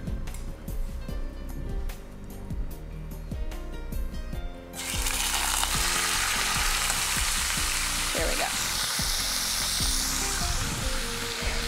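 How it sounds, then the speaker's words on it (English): Red snapper hits a smoking-hot frying pan and sizzles loudly, a dense continuous hiss that erupts suddenly after quieter clattering and rhythmic kitchen sounds. "when I throw this fish in this frying pan, it's gonna light us up"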